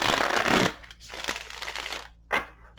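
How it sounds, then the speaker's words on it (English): Tarot cards shuffled by hand: a dense papery riffle in the first moment, followed by softer intermittent slides and a short final flick, close and clear. "I shuffle 3 cards."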